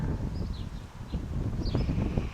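Strong wind gusting and buffeting against the microphone in a steady low roar, with faint chirps of birds in the background.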